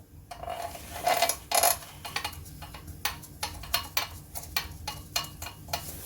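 A 13mm head bolt being fitted up under a BMW M60/M62 V8 engine during lower timing chain cover gasket installation, giving quiet, irregular metallic ticks and clicks of tool and bolt, close and faint with brief louder clinks.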